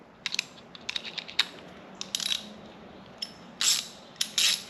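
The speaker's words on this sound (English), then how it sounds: "then we're going to grab our 12mm socket" A ratchet with a 12mm socket tightens a hood lift strut bolt on a 2017+ Chrysler Pacifica, giving close, sharp bursts of rapid ratcheting clicks separated by short pauses.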